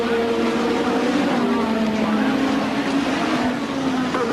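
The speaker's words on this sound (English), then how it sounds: "Nigel Mansell exiting clearways, and he's got a clear track." Nigel Mansell's Formula One car exiting Clearways during 1986 British Grand Prix practice, a continuous loud engine drone with a slowly falling pitch as it passes, under a commentator talking.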